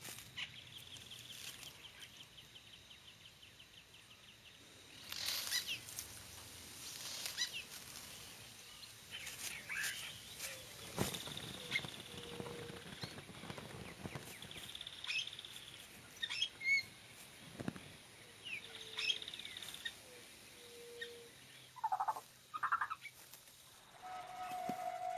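Crested oropendolas in the dry-season Pantanal give scattered gurgling, liquid calls and bursts over quiet, faint forest ambience, growing more frequent toward the end, with a few nearby chirps.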